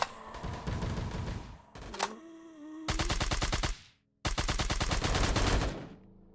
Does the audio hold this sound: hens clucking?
no